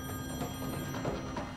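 A telephone rings steadily for a moment, a bright repeating electronic ring heard alone with no voices.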